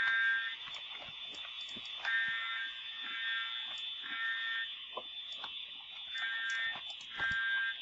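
A school fire alarm blares continuously, a loud, steady electronic tone with rapid repeating pulses running through the whole stretch, close and unbroken.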